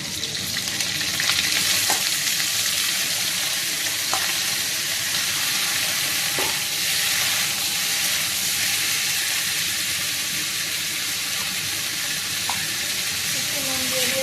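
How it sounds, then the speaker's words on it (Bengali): Parboiled cauliflower and potatoes frying in a pan, with a dense, steady sizzle and occasional stirring knocks throughout, loud and near. "এখন ফুলকপি আর আলুগুলো আমি ভেজে নেব"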